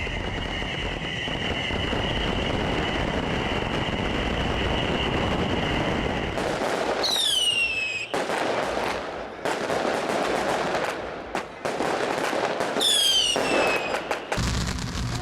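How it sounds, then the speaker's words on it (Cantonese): Fireworks at a fire dragon dance, a night festival where a paper dragon is studded with burning fireworks. Dense crackling bursts and rapid bangs roar continuously, broken by whistling rockets and brief lulls. "萬千支煙花瞬間齊發，現場一片火樹銀花"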